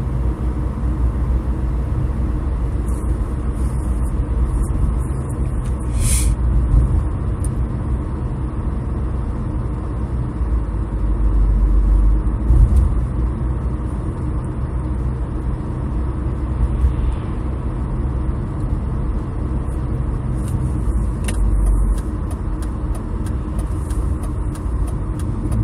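Lorries and other traffic rumbling past on a road, a constant heavy low drone with swells as vehicles pass, fairly loud and steady throughout, no voices heard.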